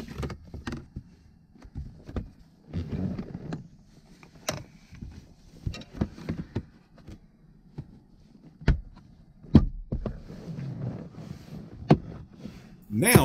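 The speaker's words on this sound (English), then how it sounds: "then snap the battery compartment cover, you should hear four clicks" A plastic Jeep Grand Cherokee key fob battery cover snaps shut with a few sharp clicks, set among quieter handling noises and rustling close by.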